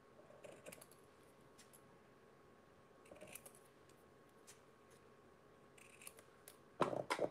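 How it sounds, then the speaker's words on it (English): Quiet snips of scissors cutting paper, a few scattered crisp cuts close by, ending in a louder cluster of rustling snips. "Now I'm going to take my scissors"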